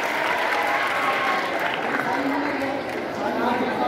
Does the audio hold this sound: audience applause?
yes